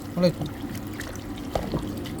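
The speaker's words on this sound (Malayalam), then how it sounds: "വെള്ളം ഒഴിക്കട്ടെ." Water is poured into a pressure cooker holding beef curry mixed with tomato and coconut oil: a short, close splash near the start, then a softer trickle beneath room noise.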